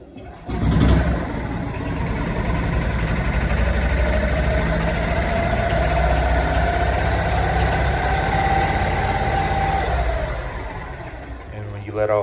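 A Club Car golf cart engine turned over by pressing the gas pedal, starting with a thump and then running at a steady, loud, close-up drone for about ten seconds before letting off.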